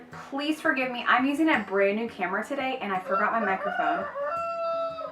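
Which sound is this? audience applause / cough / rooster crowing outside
rooster crowing outside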